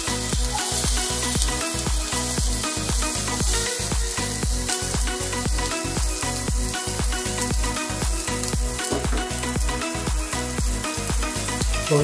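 Green chilies and curry leaves frying in hot oil in a pan for semiya upma, a dense, loud, continuous sizzle with a rapid crackling texture throughout.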